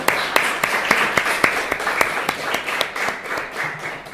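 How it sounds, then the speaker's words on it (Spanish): An audience applauding after a talk on women as peacebuilders in Las Palmas, a close, fairly loud burst of clapping with a few sharp individual claps standing out, fading slightly toward the end. "Pues te damos un aplauso, gracias por tu aporte."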